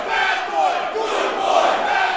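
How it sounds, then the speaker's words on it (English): A large wrestling crowd chants in unison at a no-disqualification independent pro wrestling event in Penrith, a loud rhythmic wall of massed voices swelling and repeating, heard continuously and fairly close. "Crowd's joining in too."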